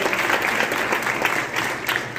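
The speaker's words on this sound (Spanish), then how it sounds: "Si aplaudirlo, hágalo bien fuerte" A church congregation at a Sunday service applauds loudly and steadily, a dense wash of many hands clapping at close range, with some voices mixed in throughout.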